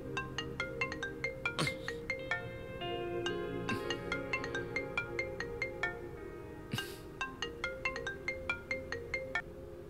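A phone ringtone plays a repeating melodic pattern of bright, evenly spaced notes, moderately quiet and continuous, with a few brief knocks in between.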